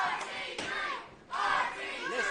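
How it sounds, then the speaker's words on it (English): Wrestling crowd at a heavyweight championship match, loud shouting and cheering with a brief dip before the roar surges back. "This crowd is driving me nuts today."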